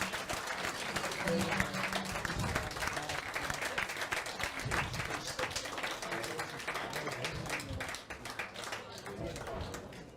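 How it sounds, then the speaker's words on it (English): Audience applause at a prize giving for the NIDO 2019 Northern Ireland Match Play, dense sustained clapping from a crowd filling the room, loud and continuous, with voices murmuring underneath. "applause, please"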